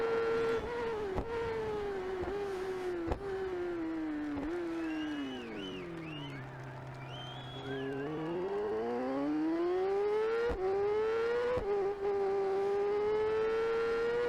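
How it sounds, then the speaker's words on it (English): A racing motorcycle engine in the TT Isle of Man 3 video game holds a high whine, drops in pitch through engine braking with sharp gear-change blips, then climbs back up as it accelerates, loud and continuous throughout. "Engine brake down to fourth in the first part of that left. Accelerate for the second."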